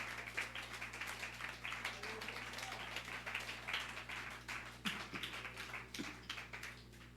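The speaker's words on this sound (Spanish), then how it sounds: "Dale fuerte el aplauso al Rey por esa vida" A church congregation applauds during a sermon, a sustained and fairly soft clatter of many hands with uneven bursts, heard over a low steady hum.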